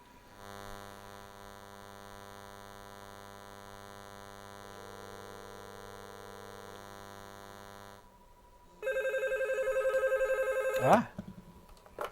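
A covert Bluetooth telephone built into a foam-lined briefcase rings after a long steady dial tone, its electronic ring loud and close before cutting off with a clatter.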